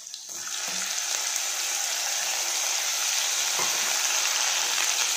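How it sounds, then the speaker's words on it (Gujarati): Chopped capsicum sautéing in a pan for pav bhaji gives a steady, close hissing sizzle that holds evenly throughout, with a couple of faint stirring knocks and no talk. "તેની અંદર આપણે કેપ્સિકમ નાખીશું અને તેને પણ આપણે થોડીક વાર માટે સાતાવવા દઈશું"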